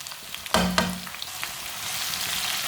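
Chopped tomato and green chilli dropped onto browned onions in a hot pan, a couple of sharp clattering stirs followed by a steady close sizzle that builds and holds.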